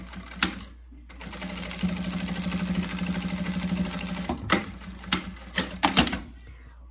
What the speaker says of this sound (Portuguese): Então, a gente vai passar uma costura aqui, certo?